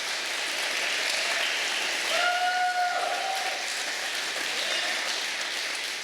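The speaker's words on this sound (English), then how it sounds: "give me a round of applause if you were excited about the Kmart Venture building being torn" Audience applause at a mayor's State of the City address, a steady dense wash of clapping filling the hall for several seconds, with a brief whistle-like tone rising over it midway.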